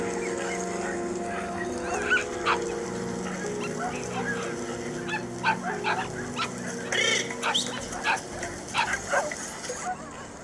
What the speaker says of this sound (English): Without these dogs, it would be impossible to put deer together, herd, and drive deer across the tundra